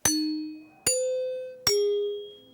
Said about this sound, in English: these are the original NBC chimes. Sounding those 3 notes to signal a program change.